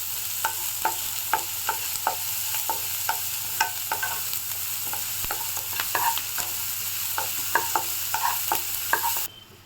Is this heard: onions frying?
yes